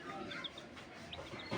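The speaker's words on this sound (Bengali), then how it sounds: "কত কিউট মুরগি বাচ্চাগুলা।" Baby chickens chirping in short, high, faint peeps scattered over a steady background hiss, with a slightly louder chirp near the end.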